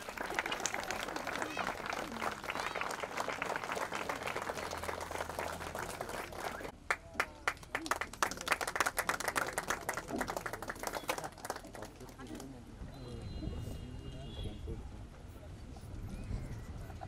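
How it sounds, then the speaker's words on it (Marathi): An audience at the launch of a biodiesel fuel pump claps in a dense, steady patter that thins out near the end, while voices talk over it. "मित्रांनो जोरात टाळ्या वाजवूया"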